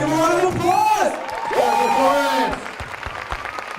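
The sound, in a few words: audience applause and cheering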